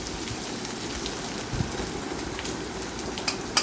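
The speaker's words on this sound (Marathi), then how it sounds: "छान अशा कमी तेलामध्ये हे कुरड्या अशा भाजून निघतात." Jowar kurdya frying in a little hot oil, a steady close crackling sizzle throughout with a couple of brief sharper pops.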